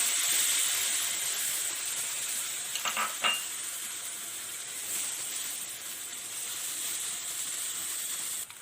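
A cup of boiled-chicken stock goes into a frying sauce for saucy chicken cutlets, giving a steady bright sizzle with a brief splashy burst from the pour near the middle, then settling back to a constant hiss with no talk.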